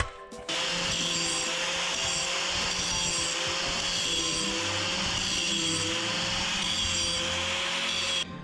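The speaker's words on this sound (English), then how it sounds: "so now I clamped them together so I can make sure I grind them even" A power grinder works on two metal axle mounts clamped together, grinding off powder coat. It gives a loud, continuous steady whine that starts abruptly and stops near the end.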